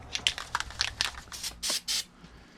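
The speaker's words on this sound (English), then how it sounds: "Now usually you spray it a bit first to make sure it comes out clear." Crackly handling noises, then two short hissing bursts of spray from a can, close and fairly loud.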